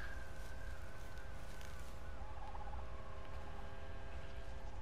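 Wild turkeys in Red Dead Redemption 2 give faint, distant gobbling calls over a constant hiss of outdoor wind and ambience.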